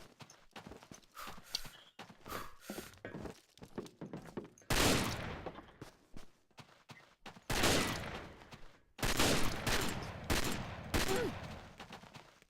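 Rapid video-game gunfire in several loud bursts, sharp cracks repeating in quick clusters with brief pauses between, close and dominant over faint background chatter.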